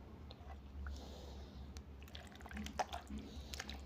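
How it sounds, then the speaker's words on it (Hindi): A preparation is washed by hand in water, giving soft close drips, splashes and squishy wet sounds in an irregular rhythm against a low hum. "आप देख रहे हो इसका ये पानी में बस हम धो रहे हैं, पानी मिक्स नहीं हो रहा है, देखो।"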